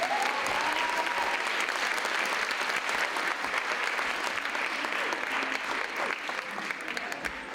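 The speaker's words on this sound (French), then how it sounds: "Un dernier tonnerre d'applaudissements avant qu'elle ne dispose" Sustained applause from a pageant audience at a Miss Belle en Forme event, a dense, steady wash of clapping that holds loud throughout and tapers only slightly near the end.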